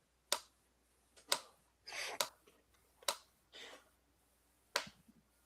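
A tablet held in hand is tapped several times in an irregular, slow-clap-like rhythm, producing sharp, close, fairly quiet knocks with brief rustles between them and no speech.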